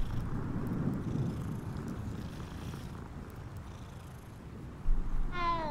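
A cat being petted in the video game Hogwarts Legacy purrs softly with a low, continuous rumble. A brief meow comes at the very end.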